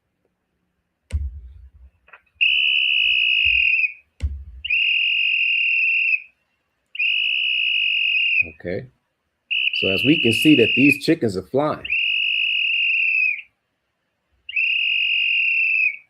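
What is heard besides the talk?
whistle blown to call trained chickens for feeding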